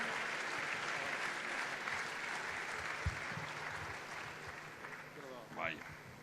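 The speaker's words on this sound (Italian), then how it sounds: "Alex Casen, un applauso, grazie." An audience at a TV7 Canale 12 evening event applauds for Alex Casen, a dense, steady wash of clapping sustained throughout, with a brief voice rising near the end.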